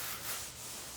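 Forged carbon fiber part being sanded by hand with 180 grit sandpaper, a brief soft scratchy rubbing stroke, close and quiet, with no voices.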